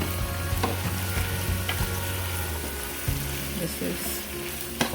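Ackee and saltfish frying in a pan over a stove flame: a loud, continuous close sizzle with stirring clinks and scrapes, while someone speaks briefly over it.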